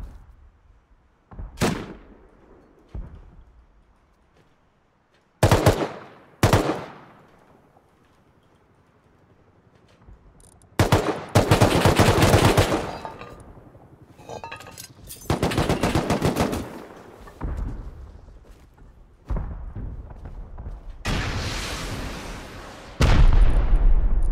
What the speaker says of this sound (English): Is Jack P shooting at me?